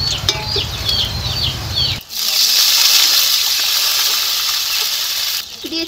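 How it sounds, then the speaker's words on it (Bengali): Water poured into a pan of hot fried potatoes sets off a sudden loud, steady hiss of steam that lasts about three seconds, after a short stretch of light chirping and kitchen sound. "এখন জল দিয়ে দিচ্ছি।"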